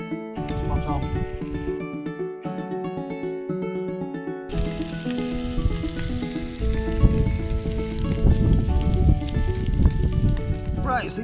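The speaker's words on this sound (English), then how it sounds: "It is sizzle." Breakfast fries in a pan on a riverbank, a steady sizzle under music and people talking throughout.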